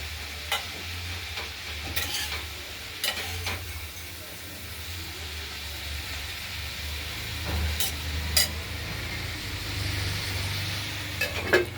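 Vegetables fry in fish oil in a pan, giving a steady, quiet sizzle and hiss with occasional soft clicks and stirring scrapes throughout.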